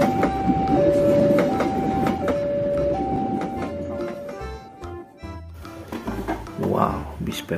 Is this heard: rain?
no